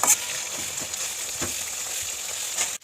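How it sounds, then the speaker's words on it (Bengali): Chicken pieces fry gently in oil, a close, even sizzle with occasional sharper crackles and no talking. "দেখো চিকেনটাকে হালকা হালকা ভেজে নিচ্ছে তেলের মধ্যে দিয়ে"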